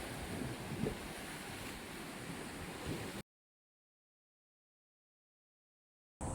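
Steady roar of ocean surf rolling onto Onjuku beach in Chiba, Japan, with wind buffeting the microphone, continuous and loud, then cut to silence before the surf resumes at the very end.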